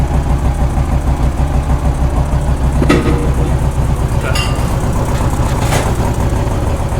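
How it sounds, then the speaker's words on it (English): A small engine idles steadily with a low, even rumble, with a few brief sharper noises over it. "maybe what you were hearing was this little engine running with people talking"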